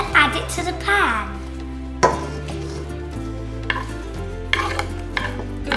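Chopped garlic hits a hot pan where onion is already cooking for a children's pumpkin soup, giving a close sizzle and clatter that settles into steady frying hiss under a low hum.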